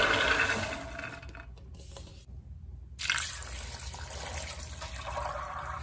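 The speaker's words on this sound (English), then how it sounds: "Four cups of water." Water poured into a crock pot holding soaked black beans for a vegan meal, a steady splashing fill that breaks off briefly mid-pour and then resumes, close and fairly loud.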